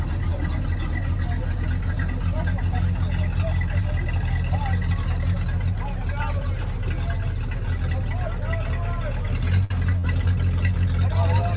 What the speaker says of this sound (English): 68 Charger.